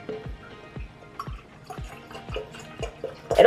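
A spray bottle is filled with water, likely from a tap, sending out a series of small, evenly spaced plops and trickles at close range, with a louder gush of water at the very end.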